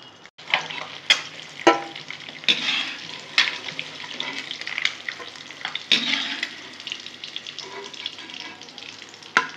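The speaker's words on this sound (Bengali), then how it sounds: "আমি এইভাবে সব ডিমগুলো ভেজে নেব।" Boiled eggs, shells on, frying in hot oil in a pan, a steady broadband sizzle with repeated sharp stirring scrapes and clicks of a spatula, close and fairly loud with no voices.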